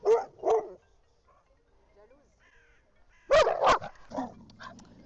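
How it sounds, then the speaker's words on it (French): A small Parson terrier barks sharply on a bed, two quick close barks, a quiet pause, then a louder burst of several barks trailing into a yip. "c'est elle qui aboie sur le lit depuis tout à l'heure"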